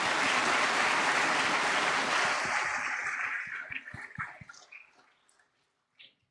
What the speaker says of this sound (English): So big applause to all the awardees.